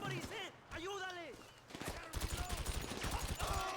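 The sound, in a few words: gunfire in the video game Red Zone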